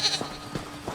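A goat in Elder Scrolls Online gives a short high bleat at the start, followed by a few soft repeated thumps, moderately close, with no talk over it.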